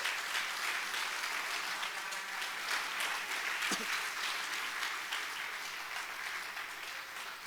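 A church congregation on its feet applauds God at a sermon, a dense, steady wash of clapping from a large crowd filling the room at even strength throughout.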